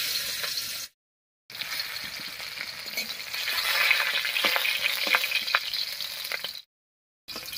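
Crushed garlic cloves and slit green chillies hit hot oil, crackling and sizzling loudly in a dense, spitting stream with scraping stir sounds, briefly cut by two silent gaps, with no speech.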